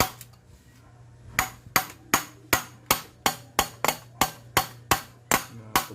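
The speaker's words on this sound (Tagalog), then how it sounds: "lakas-lakasan yung pagpukpok yan." Repeated heavy hammer strikes on a stuck piston of a Suzuki 125 motorcycle engine during a rebore, about two per second in a steady rhythm, loud and close with a low hum underneath.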